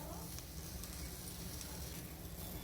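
Ingredients for North Karnataka-style karchikayi palya roasting in a pan over a gas flame, a steady close sizzle with faint stirring scrapes and no speech.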